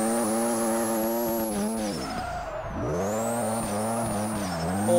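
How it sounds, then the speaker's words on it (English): A very loud turbocharged Mazda RX-7 FD in the Hashiriya Drift game screams near redline while drifting, its engine note rising and dipping through a shift, with tyre squeal layered over the continuous roar. "First person here in this very, very loud turboed FD."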